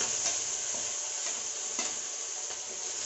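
Garlic and chili frying in a pan with cumin seeds while being stirred, preparing a pumpkin curry: steady close sizzle and hiss with scrapes of the spoon against the pan.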